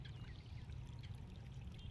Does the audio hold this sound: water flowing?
yes